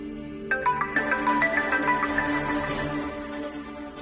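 A phone's melodic ringtone plays a bright repeating chime pattern over a low sustained backing tone, clear and close, with no talk over it.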